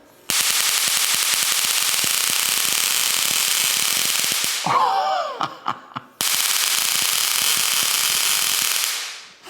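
A loud, sustained buzzing roar of a high-voltage electric arc from a ZVS-driven 50,000 volt circuit. It cuts out briefly with crackling snaps, then roars again steadily before fading.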